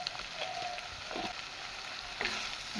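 Ground turmeric, coriander, cumin and Kashmiri red chilli powder with raw red chilli paste frying in oil for a pabda fish curry, a soft, even sizzle heard up close with faint stirring scrapes now and then.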